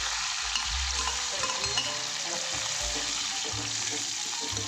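Fenugreek seeds and crushed garlic fry in hot coconut oil with mustard seeds for sweet mango pickle, a steady loud hiss and crackle with occasional stirring scrapes, no voices.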